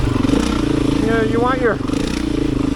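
Beta 500 motorcycle ridden off-road, its engine droning steadily and close with a low pulsing rhythm, while someone talks over it throughout.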